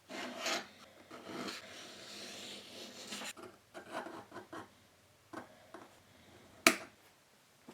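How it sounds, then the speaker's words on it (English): Scribing lines onto a Dykem-coated knife blade, quiet scratchy rasping strokes in short bursts, close and faint, with a sharp tick near the end. "we'll put some scribe lines on this so we know exactly where we need to cut to"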